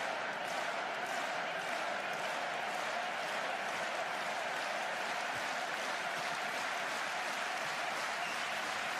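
A basketball arena crowd at a Finland versus Estonia World Cup qualifier claps and cheers in a steady, sustained wash of applause heard from a distance, with no clear voices standing out.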